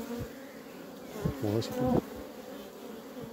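Honeybees hum steadily at a hive colony, a close, continuous buzz, with someone briefly speaking French over it midway.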